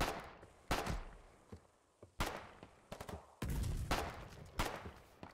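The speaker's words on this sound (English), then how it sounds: "It's gonna shoot the machine gun and then we shoot it back." Bursts of machine gun fire in a war video game, several sharp loud volleys spaced irregularly with quieter rattling and distant shots between, no talking.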